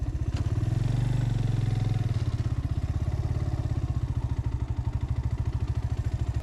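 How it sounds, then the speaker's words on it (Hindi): Motorcycle engine idling close by in a parking area near a historic fort, a steady rapid low throb with light mechanical clatter and no voices. "चलिए फिर बाइक यहाँ पे पार्क करते हैं"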